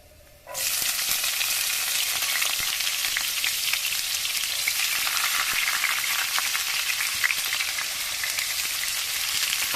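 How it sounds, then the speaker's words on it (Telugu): Spring onions hit hot oil and cumin in a kadai for an egg curry, and a loud, dense sizzle erupts suddenly after a quiet start. It keeps crackling steadily to the end. "కర్రీకి తగినంత నూనె పోసుకోవాలి స్పూన్ జీలకర్ర వేసుకోవాలి తర్వాత ఉల్లి పొరక ఉల్లిగడ్డను వేసుకుంటాను"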